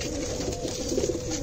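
Pigeons coo softly and repeatedly in a short stretch, the low, throaty calls close by over a steady background hiss.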